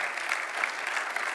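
A keynote audience claps in a steady, even patter of applause, moderately quiet and continuous for a moment, with no talking over it.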